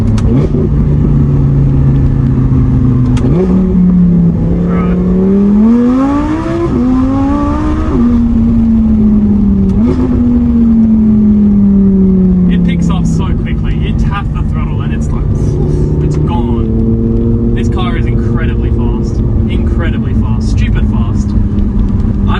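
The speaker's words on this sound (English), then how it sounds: "You want to hear the sound of that glorious V10." A 2014 Audi R8 V10 engine roars and climbs in pitch through several hard accelerations, loud and close, with a voice heard briefly beneath it.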